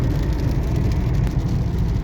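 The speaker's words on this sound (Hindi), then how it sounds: "बारिश हो रही है, आपको दिखाती हूँ।" Rain falling, heard from inside a moving car on the way to Mehandipur: a steady, loud wash of patter blended with the low hum of the road and engine, continuous and even with no talk.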